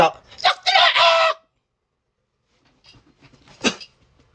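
A rooster crows, with one loud, harmonically rich call at the start, a stretch of silence, then fainter clucks and a short second call from the fowl.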